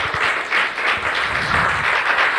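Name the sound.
congregation applause in church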